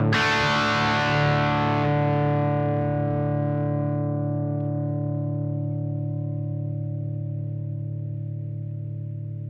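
A single distorted electric guitar chord rings out through an amplifier, loud and sustained, slowly decaying over several seconds.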